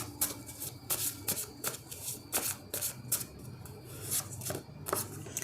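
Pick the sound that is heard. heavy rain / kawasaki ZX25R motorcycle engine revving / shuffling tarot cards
shuffling tarot cards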